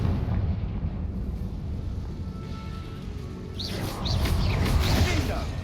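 Fiery spell blasts crackle and rumble in the Hogwarts Legacy wizarding game, a low roaring explosion bed with sharp bursts flaring near the end, moderately loud and without talk.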